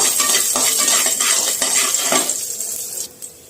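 Small shallots fry in a pan for an amaranth greens stir-fry, a loud close sizzle with stirring scrapes that fades toward the end.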